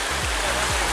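Stream flowing through Plitvice park, a steady broadband rush of running water filling the whole second, close and continuous with a couple of low rumbling thumps underneath.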